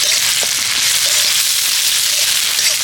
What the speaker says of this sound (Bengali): এগুলোকে ভালো করে একটু ভেজে নেব।